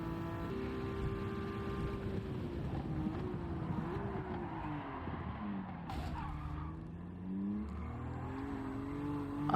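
A Nissan NISMO 400R races along the Tokyo Expressway in a video game, its engine droning steadily with rising and falling pitch through gear changes, plus brief tyre skid noise, loud and continuous.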